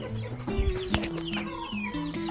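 Young Brahma and Pavlovsk crested hens cluck close by, several overlapping clucks and short calls in an uneven patter with no talking over them.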